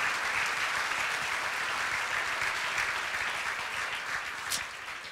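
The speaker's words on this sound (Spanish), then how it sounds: "apláudale ese rey maravilloso" Congregation in a church worship service applauds continuously for about five seconds, a broad, steady wash of many hands clapping that eases slightly toward the end, with no speech over it.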